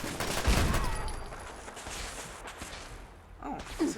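Gunfire in the video game Fallout 4, with a burst of loud shots near the start that fade into a rumbling, dense mix of game sound, then a few more sharp cracks toward the end.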